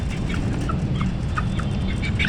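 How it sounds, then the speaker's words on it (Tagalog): Backyard chickens and broodcock roosters cluck and call over a steady bed of farmyard noise. Several birds sound at once, close by, in short repeated bursts. "Ang ating broodcock"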